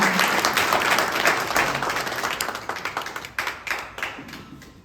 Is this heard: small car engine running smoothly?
no